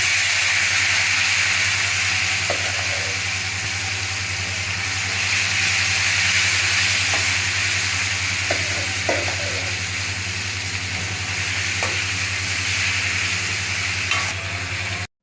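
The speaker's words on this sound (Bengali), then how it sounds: "আর তেলে কিন্তু সরিষা দেওয়ার পর এটা অনেকটাই ছিটতে থাকে" Mustard seeds splutter and sizzle in hot oil for a Bengali mustard-tempered bean and potato dish, a dense continuous hiss dotted with sharp crackling pops and a low steady hum beneath.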